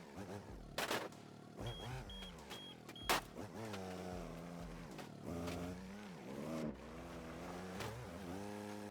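Forklift engine in BeamNG Drive, a driving video game, droning and shifting pitch as it drives off-road over rough ground, with a few brief clicks and a whine, steady and fairly close throughout.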